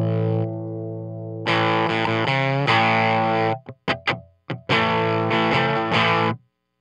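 Electric guitar through a fuzz pedal into a Fender blackface amp gives thick, buzzing sustained chords, with a short burst of choppy picked stabs and a pause between, loud and close.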